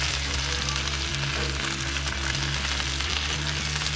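Onions charring on a hot Blackstone griddle, a dense, steady sizzle that stays loud and close throughout, with a faint low hum beneath and no speech.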